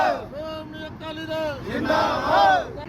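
A rally crowd chanting Zindabad, loud massed voices rising and falling in a few rhythmic shouted calls, close and filling the space.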